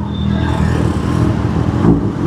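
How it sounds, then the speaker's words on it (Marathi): Heavy road traffic with cars and motorcycles rumbles close by in a steady, dense engine drone, with bikes revving and a louder surge near the end. "भाई साहब काय गर्दी आहे आणि काय ट्रॅफिक आहे"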